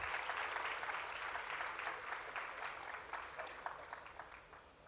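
Audience applause at an innovation summit, a sustained crowd of clapping hands heard from a moderate distance, fairly even and slowly tapering off toward the end.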